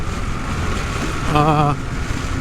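Steady, loud wind roar buffeting a rider on a 2023 Yamaha Tenere 700 World Raid adventure motorcycle at highway speed, broadband rushing throughout with a brief tonal whine midway.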